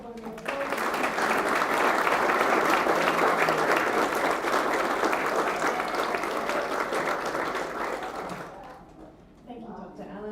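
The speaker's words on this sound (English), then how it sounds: "Let's give everybody one big round of applause." An audience at an Australia Day Citizen of the Year awards and citizenship ceremony breaks into loud, sustained applause for nominees and winners, thick clapping that fades after about eight seconds before a voice resumes.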